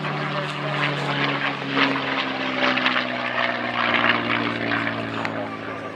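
North American P-51D Mustang "Quick Silver" propeller fighter performing inverted flight and wing-wag salute at the 2012 Dayton air show, a steady loud droning engine roar with a throbbing low hum across the whole stretch, under crowd and field ambience.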